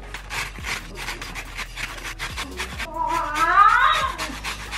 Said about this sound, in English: So I'm just gonna zest my lemon.